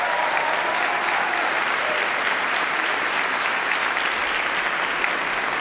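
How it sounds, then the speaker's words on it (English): Loud, dense audience applause at a city council inaugural ceremony honors a performer named Blazing Sapphire, a steady roar of many hands clapping without letup and with no talk over it. "Give her one more round of applause for Blazing Sapphire."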